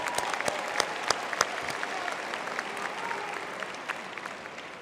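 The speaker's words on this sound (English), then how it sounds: "So we should also give him a hand of applause." Audience applause at a university autumn graduation ceremony, a broad steady patter of many hands clapping through the whole stretch with a few sharper individual claps near the start, moderately distant and without talk.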